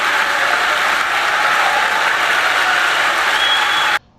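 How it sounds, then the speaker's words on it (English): A dense burst of crowd applause and cheering played as a sound effect, loud and continuous for about four seconds before cutting off abruptly. "where did you get that applause sound effect?"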